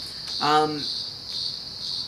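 Cicadas drone in a steady high-pitched buzz that rises and falls in loudness, with a brief voiced sound breaking in near the start.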